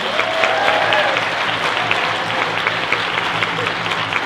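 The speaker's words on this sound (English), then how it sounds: "let's give another big round of applause for our dancers" An audience applauds for powwow dancers, with a steady dense clapping that carries through the whole stretch, and a voice talks faintly over the clapping.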